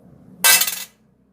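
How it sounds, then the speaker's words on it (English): One metallic clink as a coin lands on a hard plate, a bright ring that fades within half a second in silence. "let me drop this coin onto this plate."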